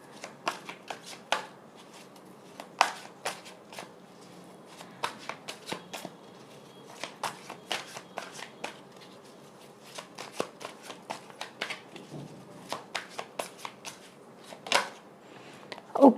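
Tarot cards being shuffled by hand, a long run of quick, crisp riffles and card slaps in irregular bursts, close and fairly soft against a quiet room.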